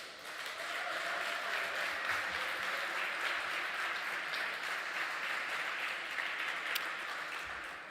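Sustained audience applause for the SBA Administrator fills a hall after her welcome remarks, a steady dense wash of clapping holding at even loudness for about eight seconds.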